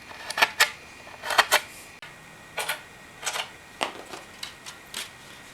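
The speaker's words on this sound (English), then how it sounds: "Use a nail or small screwdriver to poke holes for mounting the trucks later." Nail or small screwdriver punching holes through fresh grip tape on a chipped skateboard deck, a series of sharp close clicks and taps in small clusters with brief pauses, alone with no talk.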